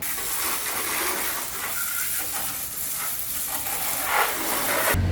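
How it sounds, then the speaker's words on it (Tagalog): Water spraying steadily over a motorcycle during a wash, a continuous hissing gush that runs unbroken and fairly close before cutting off abruptly at the end. "pwede na natin siyang basain ng tubig"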